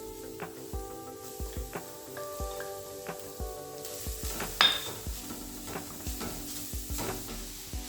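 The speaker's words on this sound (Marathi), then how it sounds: "तूप गरम झाले आता आपण याच्यात गाजर पेस्ट टाकून घेऊ" Grated carrot paste sautéing in hot ghee for carrot halwa, with a steady soft sizzle under repeated close stirring and scraping strokes of a spoon against the pan.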